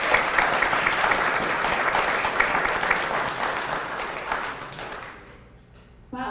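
An event audience at a conference claps in a loud, sustained burst of applause that fades out after about five seconds, then a voice begins speaking.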